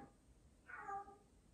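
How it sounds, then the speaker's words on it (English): A house cat gives one short, faint meow partway through, soft and somewhat distant against quiet room noise. "That's my cat."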